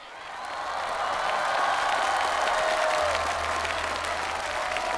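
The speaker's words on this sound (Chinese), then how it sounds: "掌声送给陈丽剧团。" A dense, steady wash of audience applause rises for the Chen Li troupe at a televised stage competition and holds fairly loud throughout with no talk over it.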